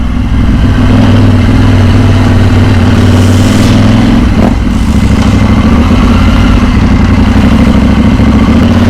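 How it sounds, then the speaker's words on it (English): A KTM motorcycle engine runs loud and close, a steady throaty rumble with a brief swell in revs midway, then settles back to an even drone. "I do like the sound of this bike, it does sound awesome."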